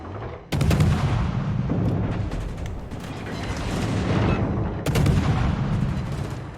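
Naval gunfire in a warship video game, with two heavy booming salvos a few seconds apart, each rolling into a long rumbling decay, loud and close with no talk.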